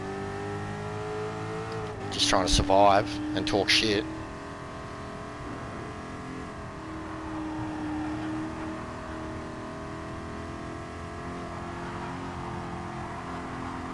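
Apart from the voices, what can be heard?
race car engine idling on the Nordschleife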